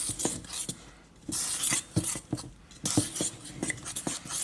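Irish soda bread dough being mixed in a bowl, a utensil scraping and clinking against the bowl in repeated rhythmic strokes, close and moderately loud.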